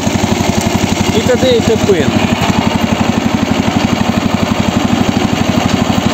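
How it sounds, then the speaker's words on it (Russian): A 7-horsepower engine on a homemade walking vehicle idles with a steady, rapid, even chugging pulse close by, while someone speaks briefly over it. "он работает и на 7-сильном моторе, на холостом"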